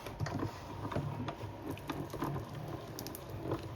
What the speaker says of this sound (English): It's a little heavy, but no strength winding the crank.